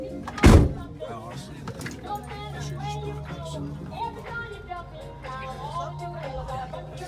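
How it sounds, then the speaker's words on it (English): A door on a Kennedy open-top tour vehicle opens with a loud thunk near the start, then people chatter and talk over a low engine hum. "let me open that door for you"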